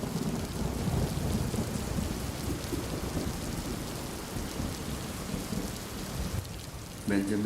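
A thunderstorm brings a deep rolling rumble of thunder under steady, heavy rain on surfaces, the thunder fading in the middle before a sharper close crack near the end.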